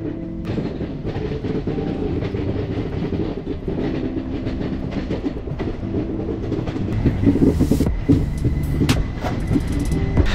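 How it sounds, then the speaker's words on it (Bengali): Kolkata–Haldibari Superfast Express train pulls out and runs, heard from aboard as a steady low rumble with rhythmic wheel clatter, growing louder and busier toward the end. "একদম কারেক্ট টাইমে ছেড়ে দিয়েছে আমাদের ট্রেন"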